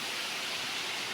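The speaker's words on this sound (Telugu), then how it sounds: "చూసారుగా జలపాతం" A waterfall behind a temple roars as a steady, loud wash of broadband rushing water, unbroken and with no pauses, close enough to fill the whole short stretch.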